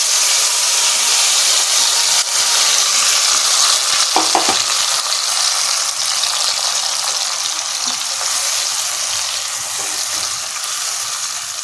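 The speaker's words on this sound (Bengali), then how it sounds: "এবার এই মশলা যেটা বেটে রেখেছি এটা এই তেলের মধ্যে দিয়ে দিলাম।" Ground spice paste of ginger, cumin, tomato and green chilli sizzling as it fries in hot oil for a Bengali potato dish, a loud steady hiss with a few clinks of a utensil partway through.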